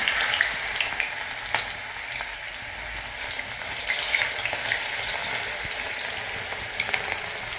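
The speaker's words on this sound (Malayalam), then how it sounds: "ഇനി ബാക്കിയിട്ടതും കൂടി നമുക്ക് ഒന്ന് വറുത്ത് എടുക്കാം" Raw banana pieces deep-frying in oil for sharkkara varatti give a steady, close crackling sizzle with scattered sharp pops throughout, and no voices over it.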